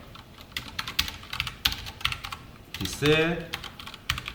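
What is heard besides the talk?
typing Java code on a computer keyboard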